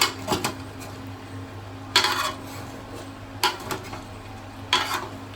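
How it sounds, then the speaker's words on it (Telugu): Goat head curry being stirred in a metal pot, with a spoon scraping and clanking against the sides in four separate bursts over a steady low background hum. "ముక్కలకు అంత పడతట్టు ఒకసారి మంచిగా కలుపుకోవాలి"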